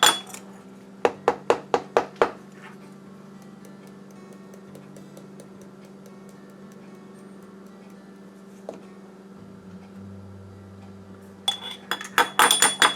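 A measuring spoon scrapes and clinks against a container while chili powder is scooped for homemade taco mix, bursts of sharp metallic taps at the start and end with a low steady hum between.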